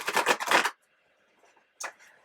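A deck of tarot cards is riffled in a close, crisp burst of rapid flutters, then falls briefly quiet before a short second riffle.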